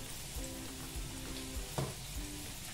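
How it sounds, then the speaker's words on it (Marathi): Modak dumplings made from wheat and maida flour deep-fry in hot oil, giving a steady close bubbling sizzle with faint crackles and a single brief clink partway through, and no voices. "तर आता मी सगळे मोदक अशा पद्धतीने तळून घेते"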